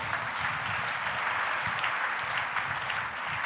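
A church congregation claps loudly and steadily in praise of the Lord, a dense, continuous wash of applause filling the space with no voices rising above it.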